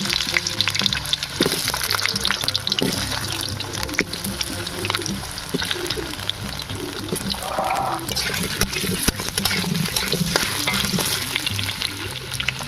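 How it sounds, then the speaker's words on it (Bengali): Potatoes fry in hot oil in a kadai wok for an egg omelette curry, giving a loud, steady sizzle with bursts of crackling and spattering. The sound is close-up and continuous, with no talking. "এবার আমি আলুটা ভেজে নেবো।"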